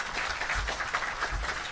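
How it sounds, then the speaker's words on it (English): Brief applause from an audience at a graduation ceremony for a Gurukul camp, a continuous moderate wash of clapping hands that stays fairly even throughout. "Give them a big round of applause."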